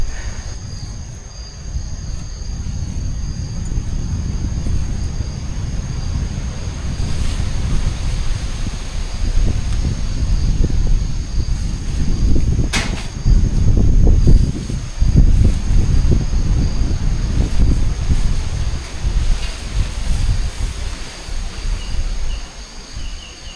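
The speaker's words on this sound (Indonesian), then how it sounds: "Asli aku gak expect kalau anginnya sebesar ini loh." Strong wind roars steadily across a mountain campsite on Mount Pandan, loud low buffeting gusts rising and falling with heavy microphone rumble throughout.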